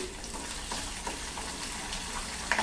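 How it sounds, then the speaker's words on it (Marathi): Hot oil sizzles and crackles steadily as curry leaves fry in tempering oil, with small pops and a sharper spatter at the very end. "नंतर काही पानं फोडणीमध्ये टाकायची"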